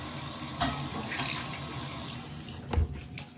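A household tap runs steadily into a sink to wet a cloth for wiping a small child's face, with a couple of splashes and clatters over the water and no talk.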